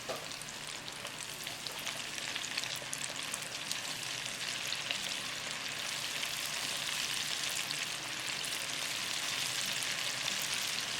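Fish pieces frying in hot oil for crispy chili fish, a continuous dense crackling sizzle that holds steady and loud for the whole stretch, with no talk.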